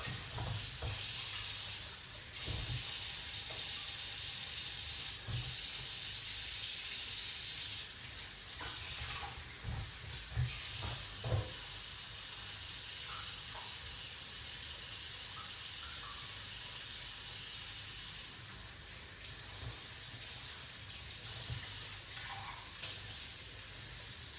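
Produce for a diabetic juice being washed under a running kitchen tap: a continuous, fairly soft gush of water that lasts throughout, with occasional clatter and splashes as items are handled.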